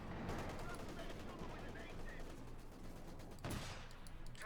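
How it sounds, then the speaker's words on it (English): In a Company of Heroes 2 battle, a British 6-pounder anti-tank gun fires one sharp, booming shot that stands out from a busy din of rattling small-arms and machine-gun fire, all fairly faint in the mix. "6-pounder gun shoots, misses."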